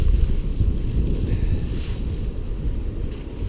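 Wind blows steadily outdoors, a loud low rumble of gusts buffeting the microphone for the whole stretch with no voices.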